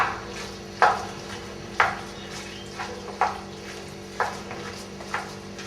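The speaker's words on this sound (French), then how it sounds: "Pour faire revenir mes courgettes et mes tomates. Et je démarre aussi ma cuisson." Zucchini, tomatoes and meat sauté in a pan under a steady soft sizzle, while a utensil scrapes and knocks against the pan in regular stirring strokes roughly once a second.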